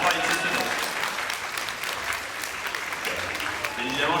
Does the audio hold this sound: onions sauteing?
no